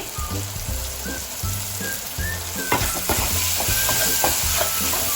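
Prawn biryani masala with mint leaves and chopped coriander sizzles and fries steadily in a pan while being stirred, with a continuous loud crackle and scraping strokes of the spoon up close.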